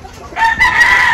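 A farm rooster crows once, loud and close, the call rising after a brief quiet start and holding a strained, drawn-out note to the end.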